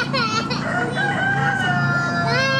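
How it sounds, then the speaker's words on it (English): A rooster crows loudly and close in a long, wavering call, with other fowl clucking faintly during a daytime outdoor visit near Greater Rheas. "So we have the rooster here trying to wake people up in the middle of the day."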